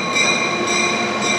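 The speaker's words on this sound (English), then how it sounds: "say goodbye to the train" A train rumbling past at close range, with a steady wash of wheel and rail noise and high metallic ringing tones that hold throughout the brief passage.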